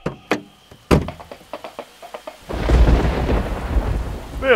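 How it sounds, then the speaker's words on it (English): A series of sharp knocks and cracks opens, then a thunderstorm rumbles in with loud thunder and steady heavy rain filling the rest of the span. "there's a mighty big storm heading your way"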